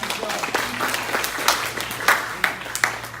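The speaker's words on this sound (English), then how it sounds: "Let's give them another round of applause." Audience applause for a panel after a group discussion, a steady crackle of clapping with a few sharper claps, mid-distance, over a low hum and some murmuring voices.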